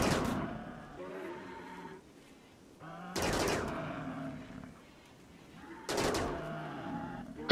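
A turret opens fire during a cannibal raid in the strategy game RimWorld, sounding as three loud, rattling bursts of rapid gunfire roughly three seconds apart, each fading into quieter gaps.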